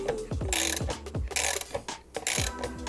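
A ratchet wrench clicks in quick bursts while tightening the hand guard fixing on a Suzuki V-Strom motorcycle, the close metallic ratcheting repeating in several rapid strokes with short pauses between them.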